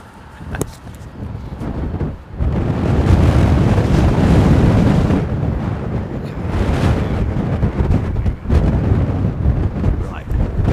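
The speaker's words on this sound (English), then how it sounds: "it's a windy show, it's a windy day. Wouldn't you expect wind?" Heavy wind at London Heathrow Airport blasts the microphone in loud booming gusts, briefly dropping out a couple of times before surging back.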